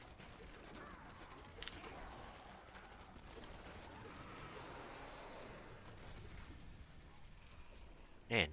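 Dense, continuous rumble of explosions and gunfire-like bursts in Diablo 3, steady throughout, ending in a sharp louder burst.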